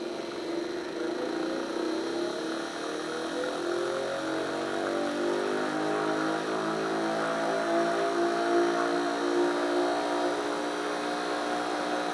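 A 3D-printed Bedini-circuit pulse motor spins up after a hand start, making a steady mechanical whir with a rising, shifting tone as it gains speed, running continuously and alone.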